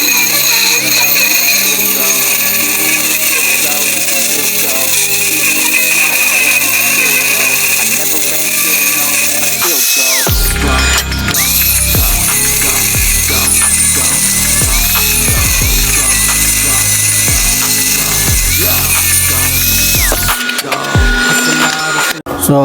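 Stick welding with a 7018 electrode on a 3G vertical joint gives a loud, steady crackling hiss that runs nearly unbroken, with a short pause near the middle and another near the end.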